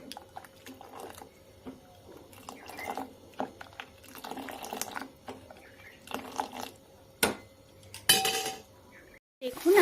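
Rice stirred in a cooking pot, giving intermittent clinks and scrapes of a utensil against metal mixed with watery sloshing and a few louder knocks, with no talking.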